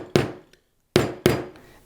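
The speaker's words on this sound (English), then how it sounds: "I'm going to gently tap down with my weighted rawhide hammer" A weighted rawhide hammer taps a dapping punch set in a swage block while shaping a silver earring: three sharp, close knocks, one followed by a pause, then two in quick succession.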